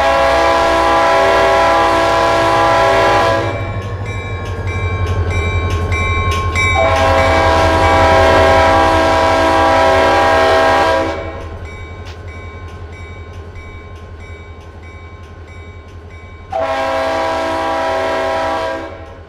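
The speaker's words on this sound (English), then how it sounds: "Just honking for that bridge." Run8 train simulator locomotive horn sounding for a bridge: two long loud blasts followed by a shorter third, over steady rumbling engine and rail noise.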